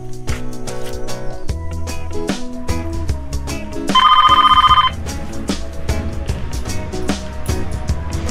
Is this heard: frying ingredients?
no